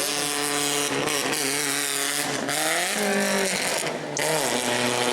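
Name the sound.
race car with transmission trouble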